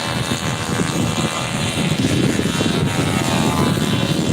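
A radio-controlled stunt airplane flies nearby, its propeller droning steadily with a buzzing engine tone that grows slightly louder, with breezy wind in the background.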